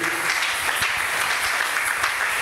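Loud applause from a church congregation, steady clapping that fills the whole room without a break.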